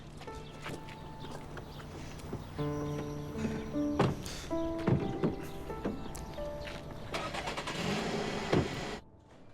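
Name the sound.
car engine starting and driving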